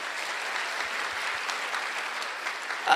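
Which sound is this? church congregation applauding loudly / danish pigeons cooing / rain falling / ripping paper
church congregation applauding loudly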